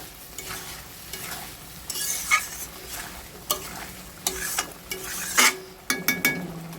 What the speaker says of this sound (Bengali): এবার মশলাটা কষবে, ভালো করে মশলাটাকে কষিয়ে নিতে হবে